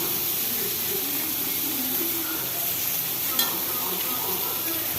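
Pointed gourd (potol) frying in a pan, a constant dense sizzle and hiss filling the whole stretch close to the listener, with a faint click near the end.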